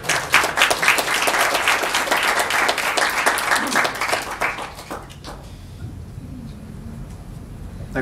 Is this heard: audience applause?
yes